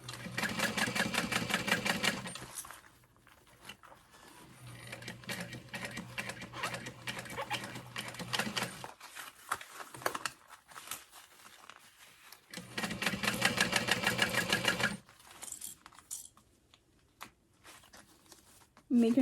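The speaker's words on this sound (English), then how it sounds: "I'm gonna backstitch over this gusset as I'm starting to go towards the top." Sewing machine backstitching across a bag gusset, running in fast rhythmic bursts of needle chatter with brief pauses between passes, close and steady.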